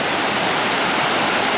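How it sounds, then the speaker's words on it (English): Maeya Waterfall in Thailand heard from its base: a steady, dense roar of falling water filling the scene, close and constant, with no voices. "So here I am, basically at the base of the waterfall."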